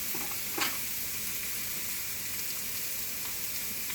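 Seasoned meat with a dry rub sizzles and fries steadily on a hot smokehouse griddle, a dense continuous crackle with occasional sharper pops, alone and close up.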